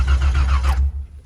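An old Chevrolet S10 with a V8 engine cranks over with a low, rhythmic churning from the starter that cuts off briefly, the engine not catching, heard up close.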